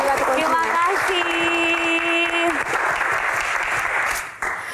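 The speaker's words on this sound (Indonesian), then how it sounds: "Silakan duduk, Prilly, tepuk tangan sekali Oke. lagi untuk Prilly Latuconsina" An audience at a televised talk show breaks into sustained loud applause, steady clapping that fades toward the end while a host speaks over it.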